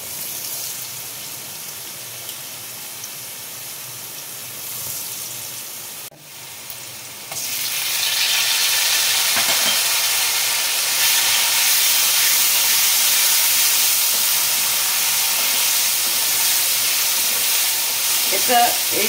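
Potatoes fry in a pan for an egg and cabbage curry, a quiet spell giving way to a louder, steady sizzle and hiss after a brief stir, with no speech.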